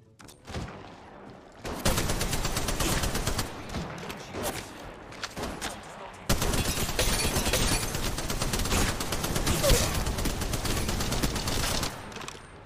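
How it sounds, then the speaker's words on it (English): Shotgun fire in Apex Legends Mobile comes in dense, loud bursts of rapid shots, a short burst followed by two long sustained volleys, with no voices. "Alright, time to use the shotgun."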